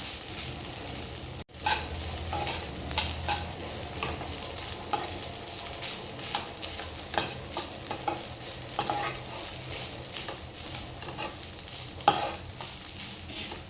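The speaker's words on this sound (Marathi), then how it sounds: "भात घातल्यानंतर हे मसाल्यामध्ये छान मिक्स करून घ्यायचं आहे" Cooked rice being stir-fried with masala for bombil fry rice in a hot pan, with steady sizzling and repeated scraping and stirring strokes of a spoon and one sharp knock early on. Close, with no voices.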